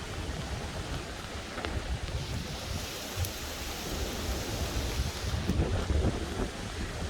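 A 40-60 mph gale batters an ultralight three-person tent, a loud, continuous roar of wind with heavy rumbling gusts and occasional flapping bursts of fabric throughout.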